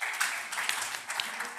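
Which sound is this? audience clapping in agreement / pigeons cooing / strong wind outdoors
audience clapping in agreement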